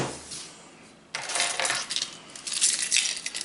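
Keys clipped together on a carabiner, including a vehicle key, jingle and clink in bright metallic bursts after a quiet start, close to the listener, with no talking.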